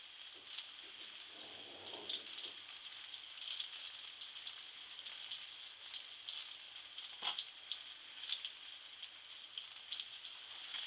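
Cheese-stuffed plátano macho frying in a pan, a quiet, even hiss of sizzling oil that carries on steadily with faint crackles and a brief soft clatter, with no talking.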